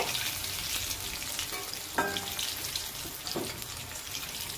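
Chicken popcorn frying in oil over a high flame, a dense, loud sizzle with a couple of sharp utensil clacks as pieces are lifted out, close up and without speech.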